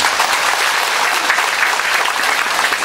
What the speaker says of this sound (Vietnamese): vỗ tay chúc mừng nhau.